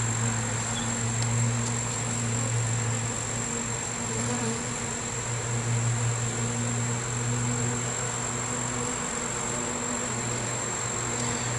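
A dense, continuous drone of honey bees buzzing around an open hive during an inspection, steady and close with no pauses or voices.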